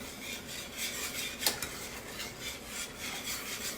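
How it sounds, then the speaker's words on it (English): Whisk stirring butter pecan custard filling in a pot on a stove, a steady rhythmic scraping and rubbing of metal against the pot with one sharper clink, close and quiet, no talking. "I always slosh this stuff over on the stove because I try to keep the whisk going, and sometimes I whisk too rough"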